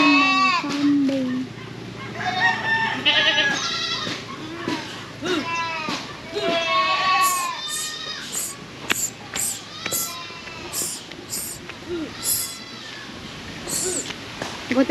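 Goats bleat repeatedly while being herded outdoors in rainy conditions, the calls near and overlapping, with people talking throughout.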